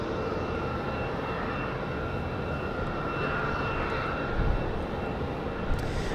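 A Delta Airbus A220 jet takes off at Raleigh-Durham International at night, its engines giving a loud, sustained roar that swells slightly toward the end, with no talking.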